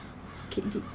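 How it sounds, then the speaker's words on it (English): Crow-like bird caws in Farming Simulator 22, two short calls in the middle of a one-second span over a faint steady background ambience. "now I'm hearing birds"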